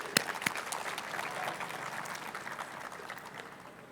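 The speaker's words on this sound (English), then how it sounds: "Please join me in welcoming the both of them with a warm applause." Audience applause welcoming two guests, an economist and his wife, before a lecture on financing sustainable development, a broad steady wash of clapping with a few sharper claps at the start, gradually thinning out.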